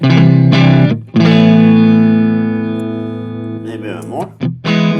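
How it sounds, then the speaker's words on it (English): Overdriven electric guitar through a Tone King Royalist amp rings out in loud sustained chords, one long held chord decaying before a final strum, with no talk over it. "here we got a little bit of like a overdriven now"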